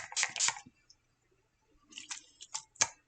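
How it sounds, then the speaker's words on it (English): Makeup finishing spray misted onto a face, heard as a short hissy spritz burst followed after a pause by a few more quick sprays, close and fairly quiet with no talking. "So I'm going to just spritz this on."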